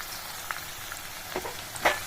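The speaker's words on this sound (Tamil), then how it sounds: "இந்த கொதித்த எண்ணெயை அப்படியே எடுத்து நம்ம ஊறுகாயில் ஊற்றிடலாம்" Boiling oil poured over tomato pickle with chili powder crackles and sizzles in a soft continuous fry, with a few sharper pops near the end.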